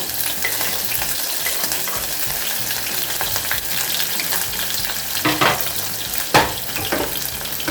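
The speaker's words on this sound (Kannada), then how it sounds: "ಅದನ್ನು ಚೆನ್ನಾಗಿ ಫ್ರೈ ಮಾಡ್ಕೋಬೇಕು" Lengthwise-sliced onion and curry leaves fry in a pan with a loud, dense crackling sizzle, close up, joined near the end by a couple of scraping stirs, with no voices.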